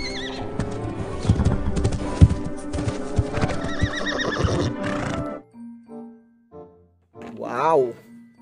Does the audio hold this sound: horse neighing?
yes